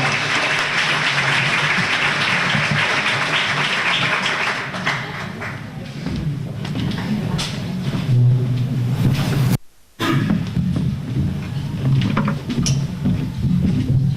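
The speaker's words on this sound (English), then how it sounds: "Give him a round of applause so he doesn't feel left alone." A chamber of commerce award banquet audience claps for Bart Madigan, a dense wash of applause that thins after a few seconds, then low room murmur and shuffling follow with a brief dropout.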